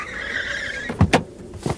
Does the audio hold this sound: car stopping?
yes